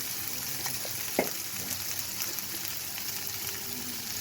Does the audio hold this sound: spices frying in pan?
yes